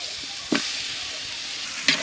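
Mutton pieces with bone, coated in ginger garlic paste, being stirred and fried in a pot for soup, giving a steady soft sizzle with two brief louder scrapes of the spoon.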